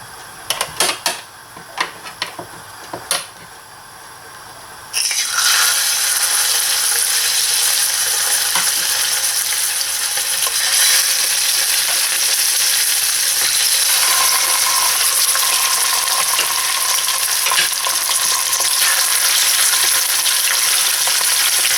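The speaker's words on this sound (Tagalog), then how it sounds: "So, ipiprito natin yung bangus." Bangus (milkfish) dropped into hot oil in a pan, a few clicks and taps then a sudden loud, dense sizzle that crackles steadily and close for the rest, with no talking.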